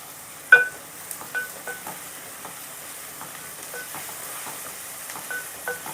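Chopped onion sizzles softly in a pan with turmeric and salt, the start of a brinjal curry, giving a low steady crackle broken by a few sharp ticks and pops, with no talking.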